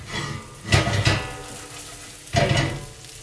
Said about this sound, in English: So they're frying away and being delicious.